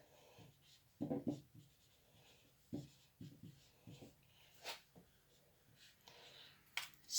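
Pen or chalk writing by hand in short scratchy strokes, soft and close, coming in uneven bursts with brief pauses between words.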